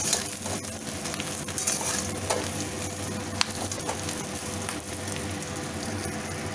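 Ber (jujube) fruit lightly frying in a pan, a steady close sizzle with occasional stirring scrapes and small pops throughout, no talking.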